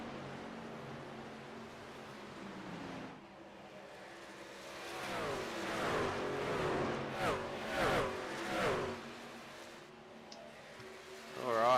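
Trucks racing in an Australian NASCAR eSeries sim race, with several engines that rise, rev and whine as the trucks pass close together. The pitch sweeps up and down between fainter stretches, and speech sits faintly under the engines.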